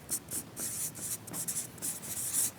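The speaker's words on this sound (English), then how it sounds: "we're going to write" A pen writes on paper close by, with quick rhythmic scratching strokes in short bursts and brief gaps between them.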